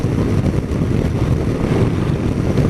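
Steady broadband roar of a Triumph Tracer 900 GT motorcycle at road speed, dominated by wind rush over the microphone with a continuous low engine and road rumble, loud and unbroken with no talk.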